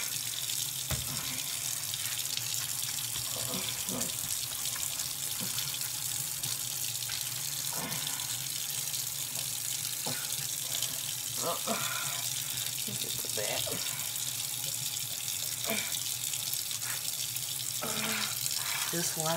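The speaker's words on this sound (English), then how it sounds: "Just washing the scalp part." Tap water runs steadily while someone washes the scalp of their hair, a continuous hissing splash with small irregular splashes and knocks throughout, and a voice faintly underneath.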